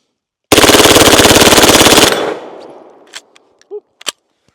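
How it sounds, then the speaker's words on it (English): A SP5K submachine gun, an MP5K variant, fires one long unbroken burst of rapid shots that lasts about a second and a half. The loud reports are followed by a decaying echo, then a few scattered clinks and small thumps. "let's go ahead and run one more mag through it"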